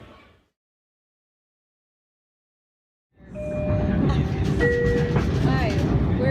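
A commuter train bound for Penn Station in New York rumbles in after a stretch of near silence, a steady loud interior roar with high squealing tones from wheels or brakes.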